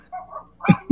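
A dog's bark rings out once near the end, preceded by softer voiced sounds, during a casual live stream among friends where people imitate barking with multiple voices.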